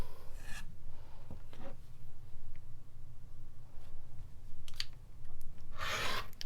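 Fabric strip being cut into diamond shapes for a quilt, with a couple of short, crisp slicing and rubbing bursts, the loudest near the end, over a quiet background.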